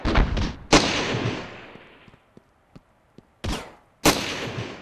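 Gunfire in the video game Ravenfield: loud blasts of shooting with long rumbling decay, a few faint isolated pops between them, then two more heavy bursts close together.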